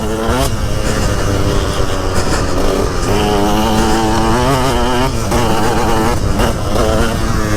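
A motocross dirt bike on the Elvetham Pale Lane MX track, a two-stroke ridden instead of a 250 four-stroke, revs loud and close throughout, its engine pitch climbing and dropping through repeated throttle blips and gear changes, with no pause.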